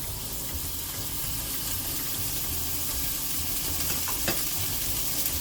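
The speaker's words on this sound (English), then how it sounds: "in the same pan, we're gonna add the ground lamb to it" Ground lamb seasoned with salt, pepper, cinnamon and allspice sizzles and crackles steadily in a hot pan, with a soft scrape of stirring near the end.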